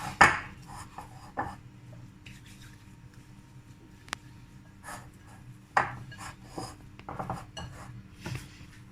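Soft, sticky squishing and slapping as oiled hands mix soft homemade bread dough, in scattered irregular pushes with quiet gaps between.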